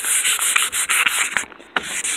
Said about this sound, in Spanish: ahora lo que vamos a proceder es a lijarlo con agua y con la lija 1500